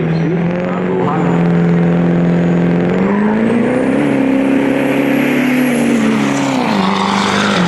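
A 2005 Chevrolet diesel pickup truck, out of Ohio, roars steadily at a diesel truck competition, its loud engine note holding then rising and dipping in pitch, with an announcer talking over it.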